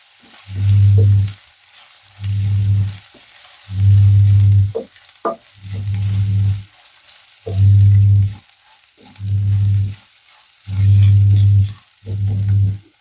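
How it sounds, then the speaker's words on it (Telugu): Ginger and garlic fry in oil with curry leaves and chopped green chili in a pan, heard as loud bursts of sizzling and stirring in a steady rhythm of about eight pulses, close up with no talking. "అల్లం వెల్లుల్లి నూనెలో వేగాలి"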